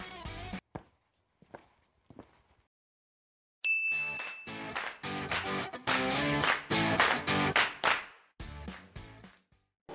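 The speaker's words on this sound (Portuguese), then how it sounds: "Então, roda essa vinheta!" A channel intro jingle opens a Portuguese-language biology lesson on genetics: a few faint taps, then a bright ding followed by a rhythmic run of punchy musical hits lasting about six seconds, with no speech.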